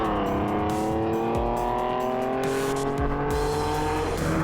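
A Ford Capri 1600 race car roars past during a circuit lap, its engine loud and close with a rising, sustained howl and the pitch shifting as gears change, and no voices heard.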